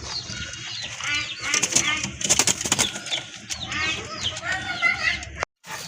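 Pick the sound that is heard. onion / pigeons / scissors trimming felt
pigeons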